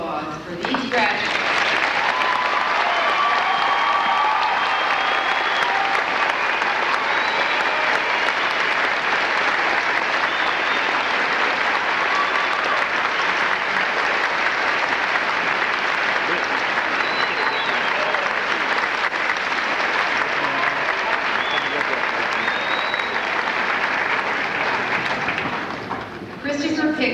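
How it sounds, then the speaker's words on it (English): Graduates at a 1996 graduation ceremony receive sustained applause from the audience, a dense, steady roar of clapping that lasts around twenty-five seconds before stopping abruptly. "And now may we have just one more round of applause for these graduates."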